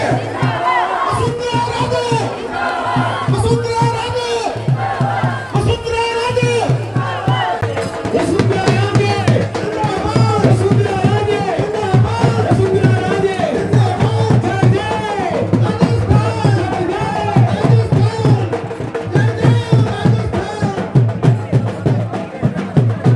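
A huge outdoor crowd in a desert village greets a politician's helicopter landing, with loud continuous cheering, shouting and chanting, many voices overlapping near and far throughout.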